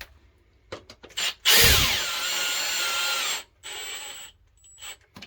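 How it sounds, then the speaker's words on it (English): A power drill on its lowest speed setting drives screws for coat hooks into a solid wall, whirring steadily for about two seconds at a slow, even pace, with short mechanical clicks and handling knocks before and after. "flick your drill into speed 1"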